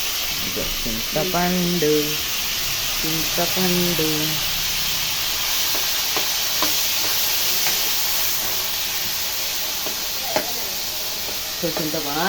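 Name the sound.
tomatoes and tamarind frying in hot oil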